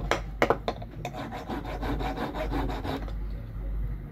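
Metal file rasping along the blade of a cuticle nipper to sharpen it, a quick burst of short strokes followed by steady continuous rubbing, close and fairly loud with no speech.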